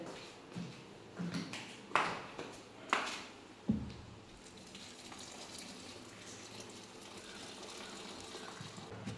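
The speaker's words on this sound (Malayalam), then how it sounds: "ഇനി നമുക്കിത് വെളിയിലോട്ടാണ് ഞാൻ വാർത്ത് ഒഴിക്കാൻ പോകുന്നത്" Water from boiled tapioca is poured out outdoors, splashing in a few bursts early on, then a steady low wash of flowing liquid continues with faint background noise.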